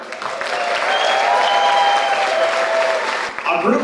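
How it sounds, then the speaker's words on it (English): Sustained applause for war veterans from a crowd aboard a cruise ship, a dense close clapping with cheers and whistles that continues for several seconds before easing off. "Can we get a huge round of applause for our Vietnam vets?"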